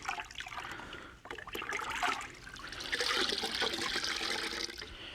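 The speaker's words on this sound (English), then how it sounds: "We're going to just dip that right down in there and mix everything up." An Optimum Big Red Sponge is dipped and swished around in a bucket of Optimum No Rinse wash water, making close sloshing and gurgling water sounds that rise into a fuller churning wash of liquid, with no talking.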